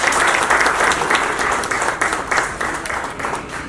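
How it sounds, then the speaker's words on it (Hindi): Loud, sustained applause from a crowd at a film poster and song launch event, dense clapping filling the whole stretch with slight swells and dips. "मैं चाहूंगा कि उनके लिए एक जोरदार ताली होनी चाहिए"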